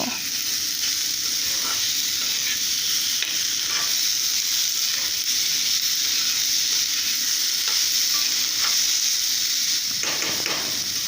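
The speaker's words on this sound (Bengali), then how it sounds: "দিলাম বেগুনের টুকরোগুলো, দিয়ে এটাকে আরেকটু ভেজে নিব" Pieces of potato and eggplant fry in oil in a pan, producing a continuous, even, close-up hiss of sizzling that holds steady throughout with no voices.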